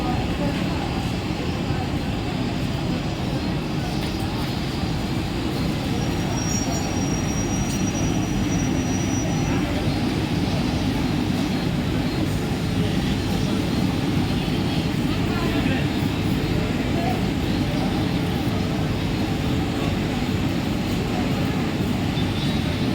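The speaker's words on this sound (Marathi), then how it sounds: "प्लॅटफॉर्म क्रमांक 1 पर आई मिनी लोकल 8:44 की अंबरनाथ जाने वाली मिनी लोकल है।" A Mumbai mini local suburban train bound for Ambarnath stands at platform 1 of a station at night, giving off a steady, loud, unbroken rumble and hiss.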